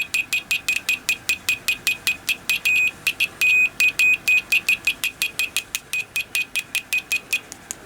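A digital multimeter on diode test with its probes shorted together, giving a rapid train of short, sharp electronic beeps, briefly merging into longer continuous tones midway, close and clear with no talking.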